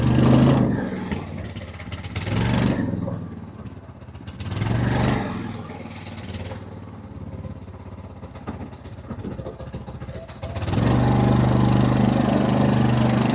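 A two-seater off-road go-kart engine runs close by, revving up and dropping back to idle in repeated waves before settling into a louder, steady run near the end.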